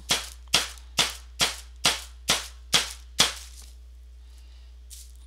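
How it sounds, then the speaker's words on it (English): A board holding a freshly poured polymer resin abstract painting is banged against repeatedly to level the resin: eight sharp, evenly spaced knocks over about three seconds, loud and close, then a quiet tail. "Cause I'm banging, I'm banging like mad."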